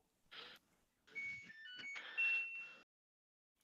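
A washing machine beeps in a quiet room, giving a faint run of short electronic tones that step through a brief melody and then stop.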